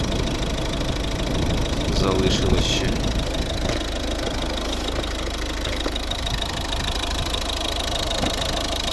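A 2011 Volvo V50 with a 1.6 D2 diesel engine idles with a steady clattering knock, close and constant, while a person speaks briefly over it.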